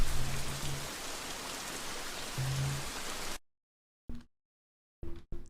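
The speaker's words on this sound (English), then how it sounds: "Drowned out by the rain." Steady rain falls in an anime episode, a loud, dense hiss that continues for a few seconds and then cuts off, followed by brief fragments of the same downpour.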